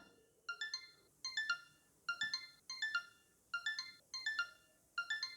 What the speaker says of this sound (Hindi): तो एक हाई पिच वाला साउंड प्ले होता है जिसका लाउडनेस धीरे धीरे इंक्रीज होता जाता है।